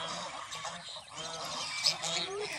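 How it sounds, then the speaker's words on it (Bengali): A flock of village ducks gives loud honking quacks at close range, repeating over a low outdoor background. "কতগুলো হাঁস দেখতে পাচ্ছেন, ক ক ক ক করছে সব।"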